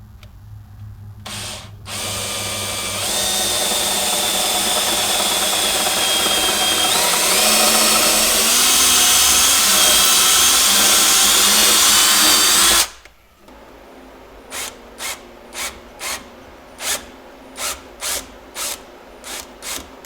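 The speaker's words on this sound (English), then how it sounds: "That's where I'll drill my hole." A power drill whirs for about ten seconds as it bores through a deer skull, whining higher as it runs, then stops; short bursts of drilling follow in a quick series.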